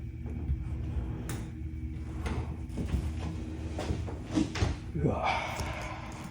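A sliding door rattling open in the Japanese horror video game melt, revealing a grimy tatami room, heard as a brief scraping slide under ambient game drone while a narrator speaks.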